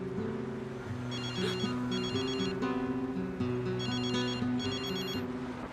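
A phone ringtone plays a repeating electronic melody in bursts, fairly loud and close, with no voices over it.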